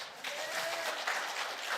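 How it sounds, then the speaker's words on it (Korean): A church congregation applauds during a service, a steady wash of many hands clapping together, evenly sustained and moderately distant, with a faint voice underneath. "하나님께 영광의 박수를 드립니다"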